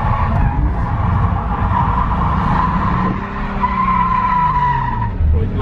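A Nissan 350Z drifting at a drift experience event, its tires squealing steadily and loudly over engine noise for several seconds, with the squeal pitch sliding near the end.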